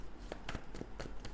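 Tarot cards being shuffled by hand, a few soft quick riffling flutters in a quiet room.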